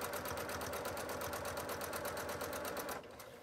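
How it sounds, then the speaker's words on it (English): A sewing machine stitching steadily along a sewing line, a fast even whirring run up close that slows and drops off near the end. "And you're going to sew right along that line."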